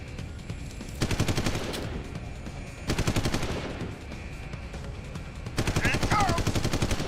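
Ray gun fire in Deus Ex: Human Revolution comes in three long, loud rapid-fire bursts separated by short lulls of game ambience, with a faint voice partly beneath.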